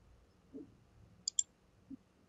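Two quick, faint clicks of a computer mouse button in a quiet room, closely spaced and otherwise alone.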